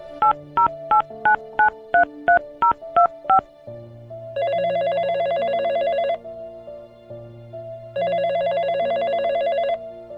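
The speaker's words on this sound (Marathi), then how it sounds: "एक मिनिट, हा फोनच लावतो त्याला." A telephone being dialed, a quick run of about nine distinct tone beeps, followed by two long bursts of an electronic ringing tone separated by a pause, loud and clear without voices.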